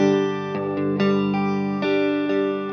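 Electric guitar through a Cube Baby effects unit in analog mode with dirt tone overdrive: sustained, distorted chords strummed repeatedly, loud and full, with no talking.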